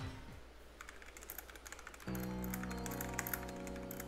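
Soft clicks of a computer keyboard are typed in quick irregular bursts, faint and close, over a quiet background, with a video game's music and tones starting partway through.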